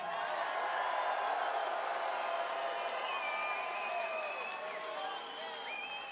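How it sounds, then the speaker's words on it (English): A packed concert crowd at Horncastle Arena in Christchurch cheers and applauds loudly and continuously, with whoops and whistles rising over a dense wash of clapping that eases slightly toward the end. "Christchurch, give yourself a big cheer."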